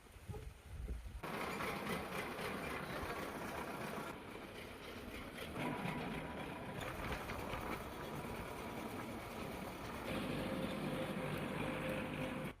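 A tractor works a farm field, its engine droning steadily and loudly throughout, with a brief shift in tone partway as the load changes; no talking is heard.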